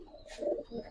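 A checker ice bar pigeon from a master breeding pair gives a soft, brief coo close by in a loft, quiet and alone with no talk.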